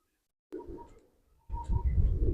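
Pigeons cooing in a loft, short soft calls in two close bursts separated by a brief lull, with low rustling underneath.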